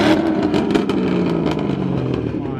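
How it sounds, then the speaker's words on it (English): Car engine revving hard at a crowded car meet, a loud rising and falling roar with sharp throttle bursts, voices talking over it. "Rev it, rev it."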